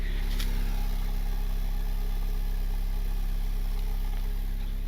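A Honda Civic with a turbocharged R18 engine idles while warming up, a steady low droning hum with smooth, even exhaust throughout and no voices.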